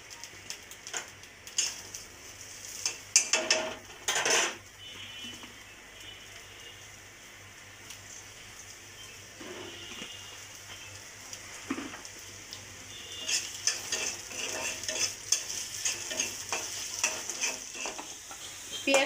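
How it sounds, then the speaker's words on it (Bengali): Onion, garlic and dried chili fry in a pan with a soft steady sizzle, broken by occasional spoon stirring and scraping, close and moderately quiet, no talking. "পেঁয়াজটা আমার লাল করা হয়ে গেছে সুন্দর করে, পেঁয়াজ আর শুকনো মরিচ রসুন।"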